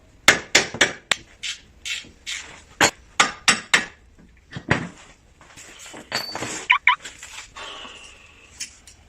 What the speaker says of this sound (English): use a hammer to knock it out so you don't bend the end of the tie rod